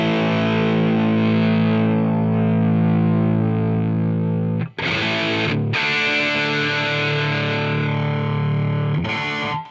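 Distorted electric guitar through the AmpliTube 5 amp simulator, heard via a virtual Shure 57 mic on the cabinet, sustains thick chords, then breaks into a few brief choppy cuts and bursts of tone change, loud and close with no talk.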